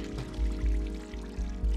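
Water pours down from somewhere above in the robot-city adventure game Stray, a steady splashing stream with a low rhythmic churn, fairly close and alone without talk.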